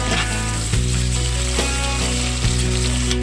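Ginger, garlic, onion and tomato sauté in a pan with a steady, close, loud sizzle and a few stirring scrapes, no talking.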